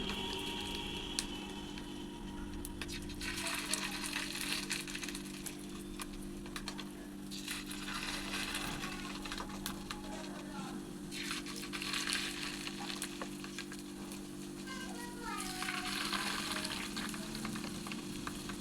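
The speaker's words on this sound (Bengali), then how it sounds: "তেলটা গরম হয়ে গেছে, এবার আমি দিয়ে দেবো ব্যাটারটা" Fish roe fritter batter dropped into hot oil: a steady, soft bubbling sizzle with occasional crackles and stirring sounds, faint and close, with no talk.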